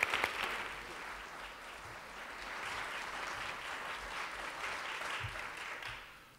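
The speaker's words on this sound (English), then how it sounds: "let's go ahead and give Tobias a round of applause as he comes to the stage" An audience applauds at a Sunday testimonial gathering, steady clapping from many hands heard from a distance, swelling slightly and then fading out at the end.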